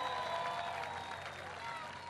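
A large campaign rally crowd in Opa-Locka, Florida applauds and cheers in a dense, continuous roar, with a voice audible over the noise throughout.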